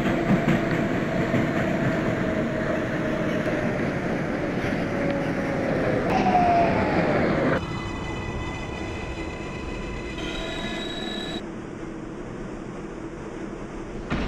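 A New York City 6 local subway train runs with a loud rolling roar and rail clatter, then shifts into steady tonal whines and hums as it slows and changes pitch.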